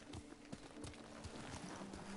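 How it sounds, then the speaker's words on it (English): Kage, a horse in the Ghost of Tsushima video game, clip-clops along with steady, even hoofbeats over a constant low background hum, with no talking. "There's my horse."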